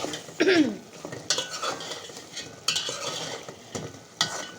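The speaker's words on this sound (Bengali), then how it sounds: "গরুর মাংসটা আমি নেড়ে দিচ্ছি।" Beef for biryani is stirred in a cooking pot after water is added, with repeated spoon scrapes and knocks against the metal over a soft simmering bubble.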